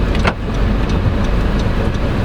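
Diesel engine of a 2022 Honda CR-V SX AWD heard from inside while driving, a steady, low, continuous rumble with road noise and no talk.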